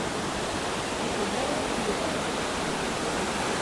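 Water flows at a temple with a steady, loud broadband rush, like a stream or small fall, unbroken for the whole stretch and with no voices.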